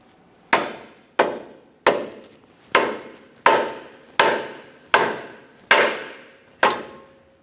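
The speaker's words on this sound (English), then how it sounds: "we're going to carefully tap up on the control arm, bringing that ball joint all the way up against the knuckle" Rubber mallet tapping up on the front lower control arm of a 2015-2019 Subaru Outback to seat the ball joint against the knuckle: eight sharp, evenly spaced knocks, each with a quick decaying ring, close and alone.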